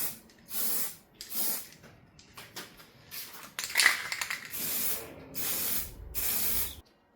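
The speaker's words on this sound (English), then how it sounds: "So I need to spray the inside of that because that's going to be visible." Primer is sprayed from an aerosol can into the inside of a picture frame in several short, close hissing bursts separated by brief pauses.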